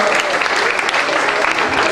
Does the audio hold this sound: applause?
yes